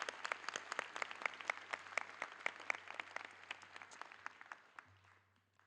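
A graduation audience at a Penn ceremony in Annenberg applauds faculty and staff, crisp individual claps standing out over the crowd's clapping, fairly faint and tapering off toward the end.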